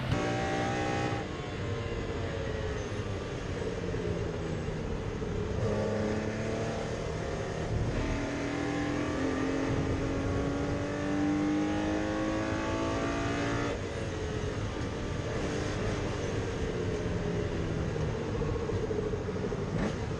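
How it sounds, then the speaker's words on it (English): Race cars qualifying at Oulton Park circuit roar past one after another, engines revving and shifting through rising and falling pitches, loud and continuous with overlapping passes and no talking. "Cars fueled up and ready to roar."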